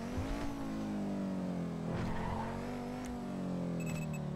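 A gull-wing-door supercar drives in GTA V Online, its engine a steady, loud sustained drone with gentle pitch shifts, plus faint higher game tones near the end.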